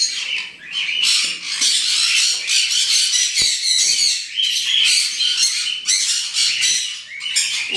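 A pet bird squawks loudly and repeatedly at close range, harsh screeching calls running almost continuously with only brief pauses.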